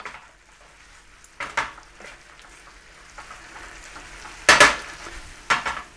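King prawns with spring onion and ginger stirred in a pan, a gentle simmering sizzle underneath a few sharp scrapes and clanks of a utensil against the pan, one especially loud, close and without speech.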